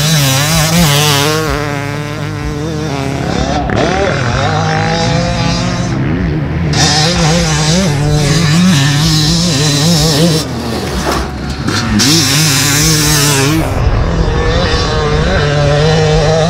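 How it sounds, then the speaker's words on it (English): A stock 2024 Yamaha YZ250 two-stroke dirt bike is ridden hard, its loud, close, buzzing engine rising and falling through the gears with brief drops in throttle, continuous for the whole stretch. "now hopping on this stock model YZ250, it's such a great platform to start off from"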